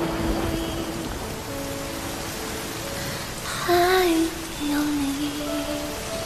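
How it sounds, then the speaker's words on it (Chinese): Steady rain patters on surfaces outdoors, a dense even hiss that carries on throughout, while a voice speaks or calls briefly over it. "这是雨吗？"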